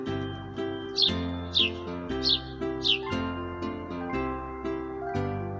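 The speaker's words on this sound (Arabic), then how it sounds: "عصفور" A sparrow chirping in four short, bright bursts spaced about half a second apart, set over a continuous musical backing of a children's song.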